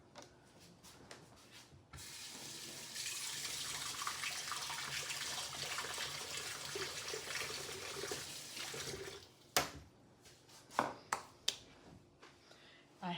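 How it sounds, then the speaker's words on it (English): A hand is rinsed under a running kitchen tap while baking a pumpkin pecan pie, giving a steady close rush of water for several seconds, followed by a few sharp knocks and clatters at the sink. "I want to rinse my hand off."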